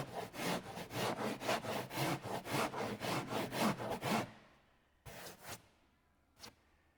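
Rhythmic back-and-forth sanding strokes rasp across an engine cowl being shaped, about a dozen even passes close up, followed by a pause and a few short, isolated strokes.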